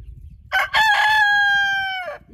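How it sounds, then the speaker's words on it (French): Rooster on a farm lets out a single loud, close crow, a sharp rising onset followed by a long sustained, slightly falling note that cuts off cleanly, over faint background noise. "Et oui, c'est le coq."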